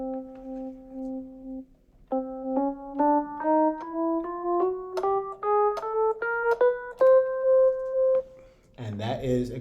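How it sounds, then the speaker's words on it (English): A chromatic scale climbs in half steps from C on a single melodic instrument, opening with one held note and then a steady run of about a dozen evenly spaced rising notes, followed by a short burst of speech at the very end. "a chromatic scale is the only scale that sounds like this"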